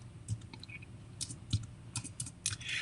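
Typing on a computer keyboard, heard as scattered light key clicks in short irregular bursts against a quiet background.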